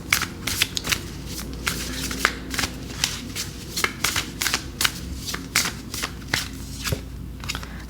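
An oracle card deck being shuffled by hand at close range, a steady run of crisp riffling card flutters and slaps repeating for several seconds with no talking.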